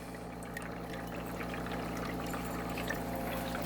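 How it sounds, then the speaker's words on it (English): Carburetor linkage part rinsed under running water, a steady, faint pouring trickle with a low hum underneath and no talk. "So we'll pull out this one here. And what I do is rinse it."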